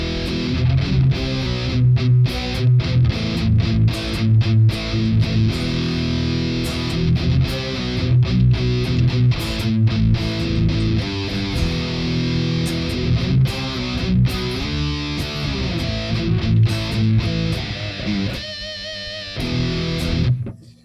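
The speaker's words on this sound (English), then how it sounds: "So right here we have a high gain rig that I have made" A BC Rich electric guitar runs through a homemade high-gain distortion rig, playing dense, loud chugging riffs with heavy saturation and steady palm-muted rhythms, unaccompanied by talk.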